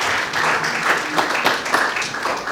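An audience at a French public event applauds the participants in thanks, a close, dense burst of clapping that holds steady for a couple of seconds.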